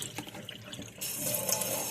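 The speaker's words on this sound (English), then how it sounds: "put some new water in it" Tap water runs into a fruit container, a softer trickle at first, then a louder, steady rushing fill for the second half, close by and alone.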